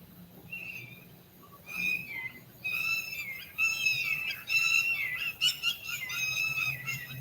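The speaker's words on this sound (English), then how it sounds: "These are these ground-dwelling birds, kind of like what would be called a killdeer in Wisconsin" A ground-dwelling bird similar to a killdeer calls repeatedly nearby with bright, piercing whistled notes and rapid chirping trills, rising in intensity and continuing without speech over a soft outdoor background.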